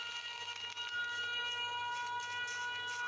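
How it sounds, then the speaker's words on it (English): A warning siren in the horror video game Mental Hospital V wails steadily with a sustained, droning tone, continuous and fairly loud throughout, with no speech. "Alright, I heard the siren, so I have to run away from this village."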